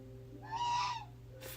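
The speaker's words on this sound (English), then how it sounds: "Fucking goose." A single goose gives one short, nasal honk close by, brief and clear above quiet indoor background hum.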